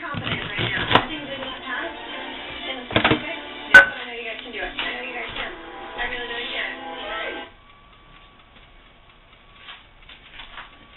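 Onion chopped with a knife on a cutting board for a rotini pasta salad gives sharp, irregular knocks that stand out over music playing in the background, then things drop to near quiet with a few soft taps.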